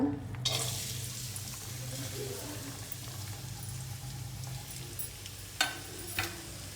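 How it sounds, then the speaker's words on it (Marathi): Chopped onion sizzling in hot oil in a kadai, a low steady frying hiss with a couple of sharp clinks from a utensil near the end, close and moderately loud. "तेल गरम झालेलं आहे आता कांदा टाकू"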